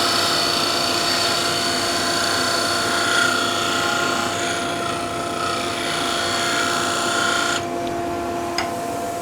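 A wood lathe spins a patio skittle blank while a parting tool side-scrapes the wood, a steady whirring drone with a faint scraping texture, loud and close, easing off near the end.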